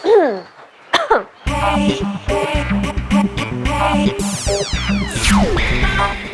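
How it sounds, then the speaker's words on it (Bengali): A couple of sharp coughs at the start, then loud music with sweeping sound effects takes over. "যক্ষা টক্ষা হয় নাই তো এমনি কাশতেছেন যে?"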